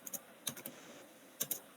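Keys clatter on a computer keyboard in short bursts of a few quick presses separated by pauses, close but faint, with no talking.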